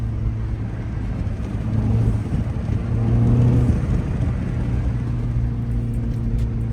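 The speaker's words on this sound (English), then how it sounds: "Hopefully y'all can hear the turbos." Turbocharged engine of a 2025 Mini Cooper S driving in winter: a low, steady cabin rumble that swells slightly twice under light acceleration, heard from inside the car with no talking.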